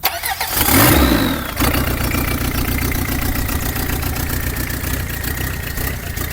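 A Citroën C15 engine cranks with a short whirring starter burst, catches loudly within about a second, then settles into a steady, rough mid-pitched idle close by, with no talking.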